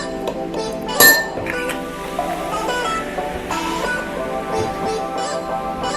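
A keto mocktail of freshly squeezed lemon and stevia is stirred in a glass, with a sharp bright clink near the start followed by lighter ringing taps and swirling over a soft background.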